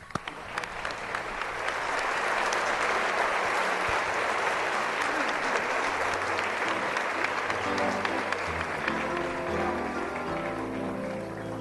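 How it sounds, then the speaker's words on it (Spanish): Loud, sustained applause fills a church during an evangelical Te Deum service, with many people clapping together for several seconds before music and voices begin to rise beneath it toward the end. "Fuerte aplauso al Señor."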